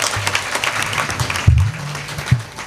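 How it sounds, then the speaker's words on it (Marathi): An audience at a kirtan claps for the Bhosale family, moderate scattered applause with low thumps and some background voices underneath. "एकदा भोसले परिवारासाठी बसलेली जोरदार टाळी वाजवा"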